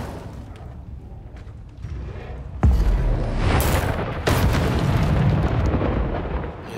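Incendio fire spell blasts in the game Hogwarts Legacy: a low booming burst hits near 2.7 seconds and a second surge follows near 4.3 seconds, leaving a loud rumbling roar over a continuous low background.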